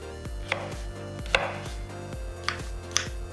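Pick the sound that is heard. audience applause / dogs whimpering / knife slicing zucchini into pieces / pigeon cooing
knife slicing zucchini into pieces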